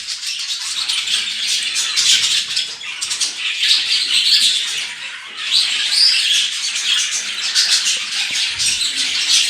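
Budgerigar chicks in a cage give a dense, continuous high-pitched chattering and chirping, close and fairly loud, with no speech.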